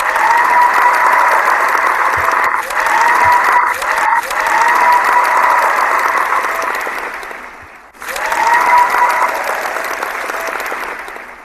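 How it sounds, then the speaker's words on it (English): Sustained audience applause fills the whole stretch, loud and dense with many hands clapping, briefly thinning near the middle before swelling back up. "So give me some applause, people."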